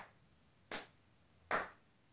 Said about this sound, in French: ce bruit d'applaudissements dans une salle vide